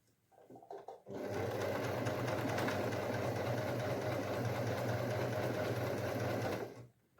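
A sewing machine stitches a frock at a quarter-inch seam gap, running loud and steady for about six seconds after a brief slower start, with no talking over it.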